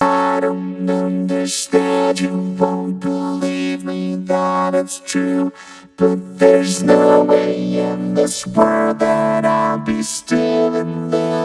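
A sung vocal processed through Ableton 10's vocoder, robotic and harmonically dense, with buzzy synthetic tones following the melody throughout.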